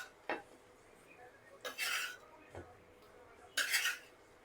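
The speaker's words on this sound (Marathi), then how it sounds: "तर त्याच्यामध्ये आता हे जे पनीर तळलेलं आहे ते मी टाकून घेते." Pieces of fried paneer tipped into a pan of cooked peas, giving a few separate clinks and scrapes of utensil against the pan, with quiet pauses between them.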